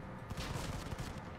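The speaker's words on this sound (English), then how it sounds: "I'll just shoot through the windows." Rapid gunfire in the mobile shooter Modern Combat 5: Blackout, the player firing through windows; a quick burst of muffled, fairly quiet shots in close succession, with no talk.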